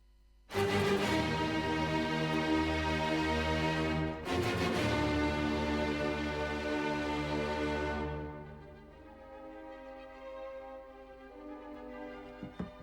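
A full orchestra plays the opening of a Fifth Symphony: a loud, sustained chord, a brief break, then a swell again before settling into softer, quieter strings.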